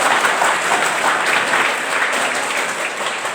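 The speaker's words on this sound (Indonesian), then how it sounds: "kita berikan aplaus yang meriah" A crowd claps for a participant at a campus speech contest, a dense, steady patter of applause from many hands that stays loud and even throughout, with no talking.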